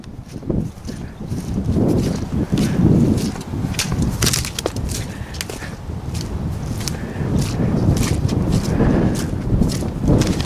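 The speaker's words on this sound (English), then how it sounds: "It's so windy." Strong gusty wind buffets a farm orchard during Storm Ciara, a loud, continuous rumbling roar with surging gusts and rattling bursts across the whole stretch.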